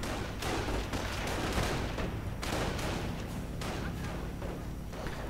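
Dense, continuous automatic gunfire and artillery-like thumps from a war strategy video game battle, loud and sustained, with overlapping bursts and booms and no clear talking.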